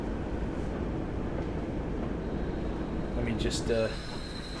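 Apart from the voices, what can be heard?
train running in Train Sim World video game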